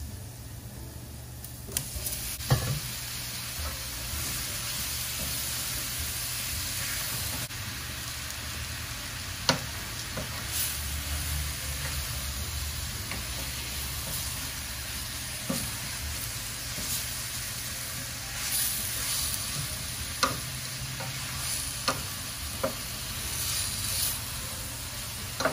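Pieces of stew beef sizzle in a hot pot, a continuous loud hissing fry with occasional clacks and knocks from a utensil, and no one talking.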